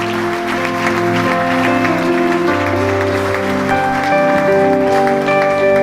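A church congregation clapping along under loud sustained music, steady applause blended with held keyboard chords throughout.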